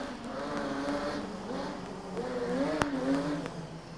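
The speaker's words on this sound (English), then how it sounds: "this car of Miles sounds like it's going to go quickly." Modified production race car, an RX-7 among the field at Carina Speedway, engine revving and accelerating in rising, wavering pitch sweeps, with a sharp click near the end, no commentary over it.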